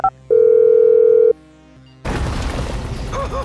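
Phone dialing tones in the video game Grand Theft Auto V: a short beep, then a long steady electronic tone and a lower held tone, abruptly cut off by a loud burst of noisy in-game action.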